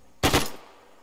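An M2 heavy machine gun fires in the video game Arma 3, a single loud, sharp burst lasting about a third of a second that quickly fades into a short decaying tail.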